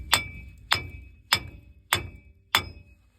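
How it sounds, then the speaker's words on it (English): Hammer blows knocking out a wheel bearing on a 2012 Ford F150: five sharp metallic strikes at an even pace, close and ringing briefly, with no talk. "if you hit it with a hammer a few times"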